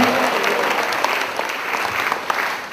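A church congregation claps hands in thanks at a prayer meeting, a loud, dense burst of sustained applause from many people filling the room, steady throughout with a few sharper individual claps.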